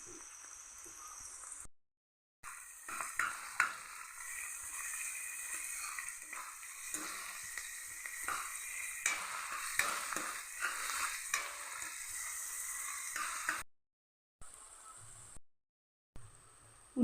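Onion pieces sizzle steadily in a pan with a soft, moderate hiss and occasional stirring clicks, broken by brief silent gaps, with no voices.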